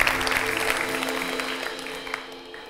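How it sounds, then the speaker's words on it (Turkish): An audience claps for students at a university talk, a loud, dense burst of applause that gradually thins and fades over a few seconds, with a low steady hum beneath. "Ve çok kıymetli öğrencilerimiz, en büyük alkışlar sizler için."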